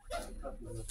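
A dog gives a short, quick bark and a yip nearby, brief and moderately loud.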